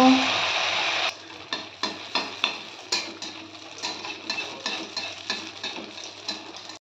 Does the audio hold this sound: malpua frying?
yes